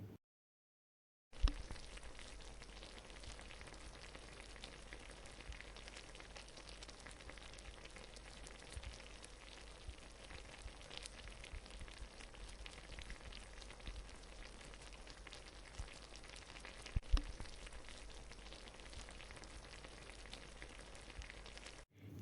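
Chicken frying with masala in a pan, a steady dense sizzle and crackle that runs evenly throughout without pause, with no talking over it.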